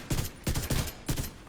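A hard-hitting, heavy-recoil weapon fires in the video game The Division 2, four loud, close shots spaced about a third of a second apart in quick succession.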